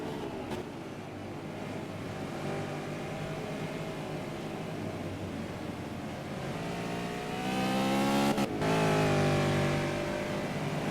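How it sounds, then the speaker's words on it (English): Race car engines roar in the background, a continuous revving drone that swells louder as cars approach and pass near the end, with no talk. "you can always just hear the roar of the engines coming in the background"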